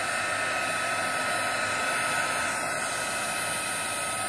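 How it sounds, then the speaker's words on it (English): Heat gun blowing hot air over an acrylic flip-cup paint pour, a continuous even hiss-roar at steady volume from start to finish, with no voices. "Do I want to heat it with my heat gun?"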